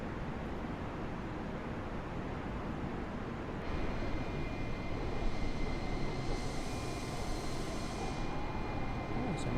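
Cabin-level roar of Airbus A320neo engines spooling to flex takeoff thrust in Microsoft Flight Simulator 2020, a steady broadband rush that grows louder partway through, with a thin whine above it and no talking.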